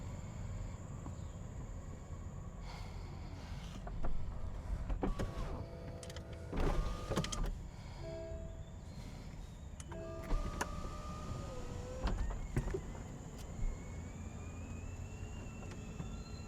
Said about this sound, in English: click a button, the top comes down.